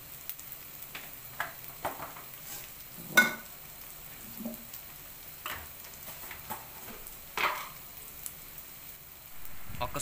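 Cumin powder, coriander powder, salt and chilli powder frying in a pan for a jackfruit seed curry, a faint soft sizzle broken by scattered scraping stir clicks and spoon knocks, quiet and close.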